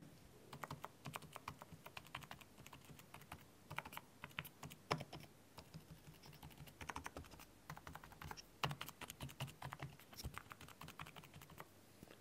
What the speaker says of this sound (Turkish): Klavye seslerini dinletmek için de yakını aldım ve sizlere şöyle göstereyim hemen sesini.